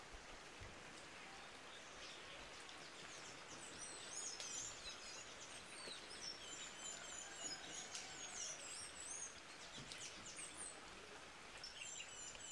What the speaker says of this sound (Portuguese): Até os pássaros estão mais animados